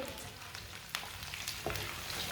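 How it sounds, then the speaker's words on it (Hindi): Finely chopped onion sizzles in hot oil with whole coriander and cumin seeds, a soft, steady frying crackle with a few brief clicks of stirring, quiet and without talk. "एक बारीक कटा हुआ प्याज डाल लेंगे। प्याज को ना हल्का सा ब्राउन कर लेंगे।"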